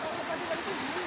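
A waterfall-like stream in the Nepali hills near Rumjatar rushes in a dense, continuous hiss, loud and close, with a faint voice barely audible beneath the roar.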